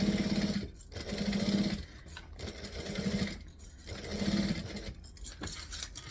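Sewing machine stitching binding onto a Yoshi backpack, running in steady bursts of rapid mechanical chatter that pause and restart several times, close and fairly loud, with no one talking.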